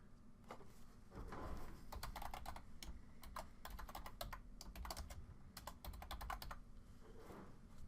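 Typing a project name on a computer keyboard, steady run of soft close key clicks in quick clusters over a low constant room hum.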